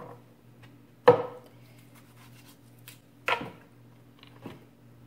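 A knife cutting onions and green pepper on a cutting board, readied for a blender, with three separate sharp chops spaced about a second apart over a low, steady background hum.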